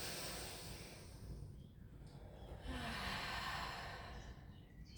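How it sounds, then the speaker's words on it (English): Deep, slow breaths drawn in and pushed out through the nose during a Pilates stretch, close and steady, filling the quiet with soft airy rushes. "Two more big breaths through the nose."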